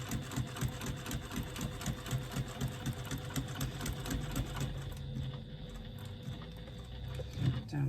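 A sewing machine stitches down the side of a slip pocket on a retro clutch bag: a close, steady rapid needle chatter for about five seconds that then slows and fades to quieter handling noise.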